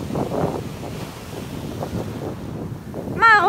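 Waves and wind out on the open sea make a steady broadband rush that fills the whole stretch, with a brief high wavering cry near the end, like a gull.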